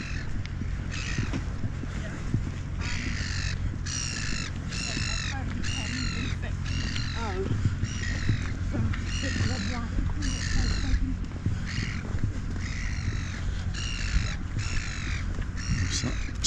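A seagull calls repeatedly in rough, hoarse squawks, fairly close, over a steady low background rumble of wind or water, on the coast at Lee-on-the-Solent.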